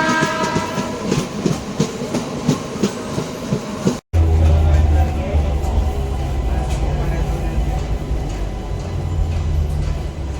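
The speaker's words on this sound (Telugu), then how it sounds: "ఇప్పుడే ప్లాట్ఫామ్లోకి మన ట్రైన్ ఎంటర్ అయింది." A Kachiguda–Raichur MEMU train rolls into the platform at Jadcherla railway station. Carriage rattling and clattering run beneath, then a shift to a steady low rumble of wheels on track, near and continuous.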